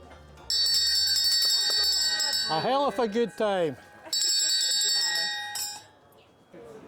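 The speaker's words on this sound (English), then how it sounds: "Says here, ring the bell for some good fortune." A bell rung for good fortune on a street in York, bright metallic rings that sound in two loud bursts and decay, with someone speaking briefly between them.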